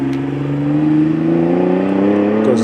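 A Nissan GTR supercar accelerating on a sprint course, engine note rising steadily in pitch as it pulls hard past, loud and close with no talk.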